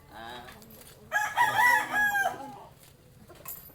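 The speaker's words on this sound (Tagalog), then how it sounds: "Daming manok dito ni Kalabas oh." A rooster crows loudly nearby among several chickens clucking on a family's farm visit, the crow rising mid-clip over soft background clucks.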